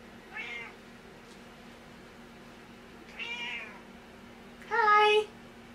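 An unhappy-sounding cat meows three times nearby in a quiet room, the first two short and the last one longer and louder.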